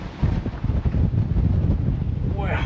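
Strong gusts buffet the microphone at Stirling Bridge in Scotland, a loud rumbling roar of wind that pulses unevenly throughout.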